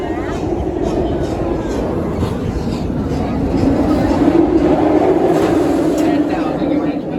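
Serengeti Express train at Busch Gardens Tampa Bay rumbling along the track in a steady low roar with rattling, loud and close throughout, growing slightly heavier partway through.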